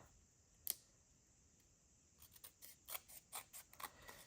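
Scissors trim excess paper from a toilet paper roll envelope: a single crisp snip comes first, then after a quiet gap a run of about eight quick, close cuts.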